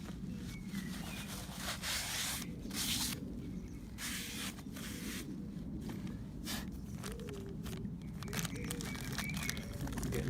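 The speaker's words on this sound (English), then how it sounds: "Put plenty on and literally just wipe off any gunk." A towel wipes a Mk4 Mondeo front brake disc clean after plenty of cleaner is applied, giving rough, rhythmic rubbing and scrubbing strokes close up, with brief pauses between passes.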